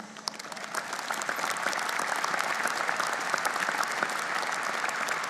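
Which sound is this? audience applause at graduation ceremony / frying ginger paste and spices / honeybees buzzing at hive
audience applause at graduation ceremony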